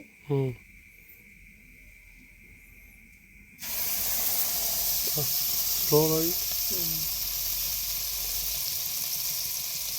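Faint hum, a brief voice, then a sudden loud steady hiss of butter sizzling as it melts into ghee in a hot pan; short bursts of talk over the sizzle.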